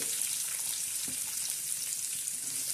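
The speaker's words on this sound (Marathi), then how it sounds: "आता कांदा टाकलाय आपण हा कांदा बी कसा तर तर तर तर होतो" Onion frying in a pan for a shev bhaji curry, a faint, steady hiss of sizzling oil with almost no stirring, continuous and quiet throughout.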